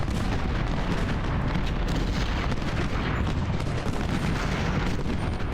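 Sustained artillery fire from a cannon duel in the Civil War strategy game Ultimate General at the Battle of Stones River, a dense, loud, continuous barrage of booming shots with no pauses and no talking.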